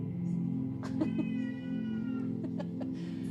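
A deaf cat meows indoors several times in short, plaintive calls over a steady low hum, fairly close, with a few faint clicks and knocks around it.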